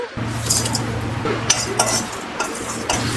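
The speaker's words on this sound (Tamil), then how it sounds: "இப்போ இது எல்லாத்தையும் ட்ரை ரோஸ்ட் பண்ணிக்கலாங்க." Spices are dry roasted in a pan, with a spatula scraping and clinking against the metal in irregular strokes over a low steady hum.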